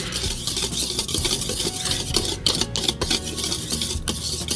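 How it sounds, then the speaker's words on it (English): A wire whisk stirs dry snickerdoodle cookie ingredients in a bowl, producing a busy, steady scratching and rustling with light metallic clinks throughout, close and fairly loud, with no speech. "So I'm going to use this wire whisk."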